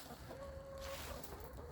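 Hens cluck softly and steadily, a low, murmuring chatter from a few birds close by, with one drawn-out tone running through the middle.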